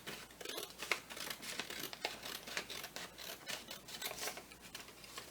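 Scissors cut paper horizontally into strips for making badges, a quiet series of close, crisp snipping and rustling strokes with no voices.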